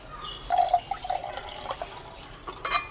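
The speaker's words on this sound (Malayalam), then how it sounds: "രണ്ടര കപ്പ് വെള്ളം ആഡ് ചെയ്യണം" Water poured into a mixture for homemade pesticide, a soft trickling and splashing that runs for a couple of seconds, close by, with faint drips and no talking.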